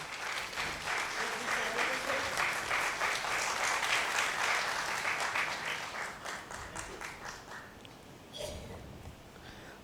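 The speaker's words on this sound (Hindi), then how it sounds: "साथ ही मैं आपसे जोरदार तालियों का आह्वान कर रहा हूं।" Enthusiastic audience applause at a Hindi folk music award ceremony, loud sustained clapping from a crowd that swells and then gradually thins out toward the end.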